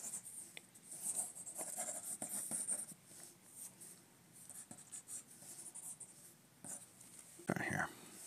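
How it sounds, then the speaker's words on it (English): Pencil scratching across paper while sketching a cartoony Sims-style Joker, with soft continuous strokes and short bursts of scribbling up close, ending in a louder brief scrape. "So this is my process for drawing a sketch based on another drawing"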